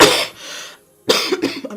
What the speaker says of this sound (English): I'm just having cough.